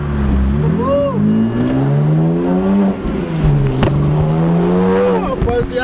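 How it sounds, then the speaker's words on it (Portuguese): A car engine revs hard while drifting, its pitch sweeping up and down in long loud surges that run continuously and close up, with voices sounding over it. "E agora a gente vai dar ali muito drift, né?"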